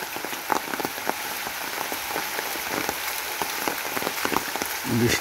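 Continuous rain falls on a walk through Niteshwar village in Bangladesh, an even hiss of drops striking nearby surfaces with occasional sharper splats, and a brief low thump near the end.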